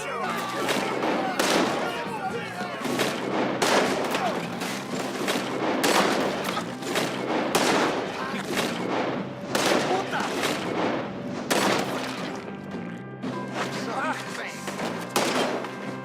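Dense volleys of gunshots in a Red Dead Redemption 2 shootout, loud and continuous throughout with repeated sharp cracks and bursts, mixed with shouting voices.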